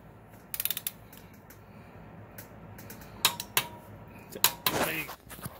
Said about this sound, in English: You torque it down to 41 foot-pounds.